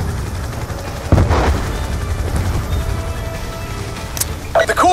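Gunfire and heavy weapons in Call of Duty: Black Ops II's FOB Spectre mission rumble under a low battle din, with a sharp burst near the start and scattered shots later, a faint voice occasionally audible.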